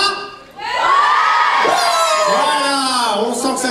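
A large festival crowd of women at a YouTuber conference in Toulouse screams on cue, a loud sustained wall of high-pitched shrieks and yells that swells after a brief dip and holds to the end.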